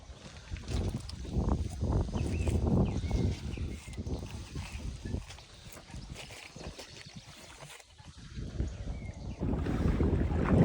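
Gusty wind blows across open water on a walleye fishing outing, battering the microphone with loud, uneven low rumbles that swell and ease throughout.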